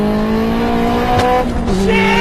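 A Honda Civic Estilo with a D16 single-cam engine revs hard as VTEC engages, a loud sustained engine note that climbs and shifts in pitch partway through, with a brief tire-like squeal texture over the steady roar.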